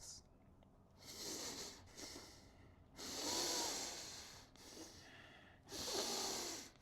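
Consciously connected breathing with no pauses between breaths, a close, loud series of long airy inhales and exhales running one into the next in a steady rhythm, with no talking.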